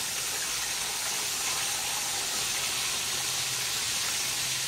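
Chicken pieces fry in an oil-filled skillet with a continuous bright sizzling hiss. The sound is steady and fairly close, with a faint low hum coming in near the end and no voices.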